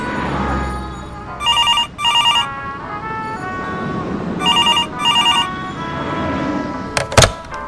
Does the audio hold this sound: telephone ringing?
yes